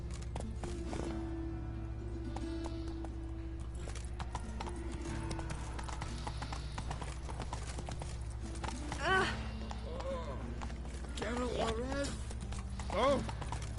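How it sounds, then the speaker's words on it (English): Horse hooves clip-clop steadily in The Witcher 3 as the mount climbs stairs, a continuous rhythmic clatter over game ambience, with a few louder bumps and a voice speaking at times. "Horse on stairs"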